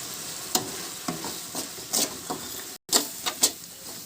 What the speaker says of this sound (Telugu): ఇలా మసాలా మొత్తం కలిసేలా కలుపుకోవాలి